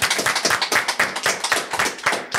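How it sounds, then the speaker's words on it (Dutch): A studio audience claps in a brisk, steady rhythm, loud and close, with no talking over it. "Graag een daverend applaus van iedereen in de studio deze keer."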